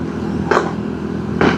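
Road traffic noise leaks into a Gearelec C2 Pro wireless microphone: a constant low rumble with two brief louder swooshes of passing vehicles, no speech.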